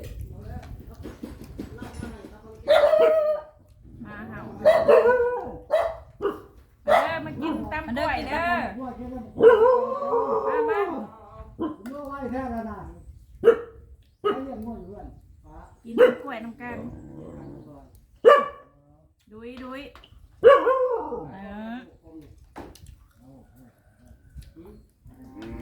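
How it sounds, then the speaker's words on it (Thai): A dog barks repeatedly in short loud bursts with some whimpering yips, close by, mixed in with people talking in Thai over a rural outdoor setting. "มาเห่าค่ะเพิ่น"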